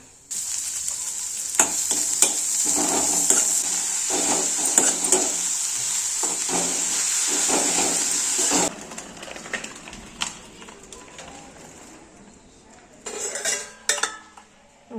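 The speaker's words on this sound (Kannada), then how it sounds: "ಮೆಣಸಿನ್ಕಾಯಿ ನಾನು ಫ್ರೈ ಮಾಡೋಕ್ಕಾಗಿದ್ದೀನಿ ಇದಾದಮೇಲೆ ಇವಾಗ ಈರುಳ್ಳಿ ಹಾಕ್ಕೊಳ್ಳೋಣ" Green chillies and onions fry in a pan with a loud, steady sizzle and occasional stirring and utensil clinks, then the hiss cuts out abruptly partway through, leaving scattered scrapes and clatter.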